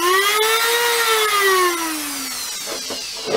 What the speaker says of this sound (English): I'm going to use a cutting bit on my rotary tool